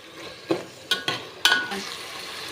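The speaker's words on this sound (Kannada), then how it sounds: "ಅದು ಟೊಮೊಟೊ ಚೆನ್ನಾಗಿ ಸ್ವಲ್ಪ ಫ್ರೈ ಆಗಬೇಕು." Tomatoes frying in a pan for chicken biryani, a soft steady sizzle broken by several sharp scrapes and knocks of a spoon stirring against the metal, close up with no talking.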